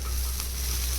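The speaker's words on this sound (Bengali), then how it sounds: "ভাজা ভাজা করে এলে তারপর এটির মধ্যে জল দিব" Maggi noodles fry in a kadai with a steady, close sizzle that holds at an even level throughout, without any voices.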